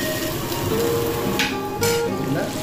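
Chicken necks sautéing in hot oil for adobo, a steady close sizzle with brief louder spurts of frying, no one talking.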